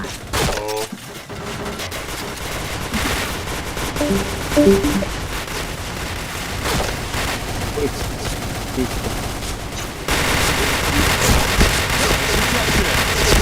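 Rapid bursts of gunfire from a shooting video game, dense and continuous throughout, layered with game effects and occasional chatter in the background.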